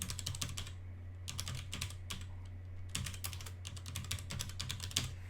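Clicky computer keyboard keys tapped in quick bursts while a command is typed, with short pauses between runs and a low steady hum underneath, close and fairly quiet.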